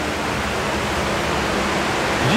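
A river rushing below a tunnel near Inunaki in Japan gives a steady, full, broadband roar of flowing water that holds at an even level throughout, with no voices over it.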